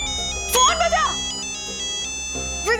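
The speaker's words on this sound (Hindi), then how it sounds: "प्लीज प्लीज फोन बजा।" A phone ringtone plays in short melodic bursts, a bright chiming tune at the start that pauses and then begins again near the end, with faint talk in the room underneath.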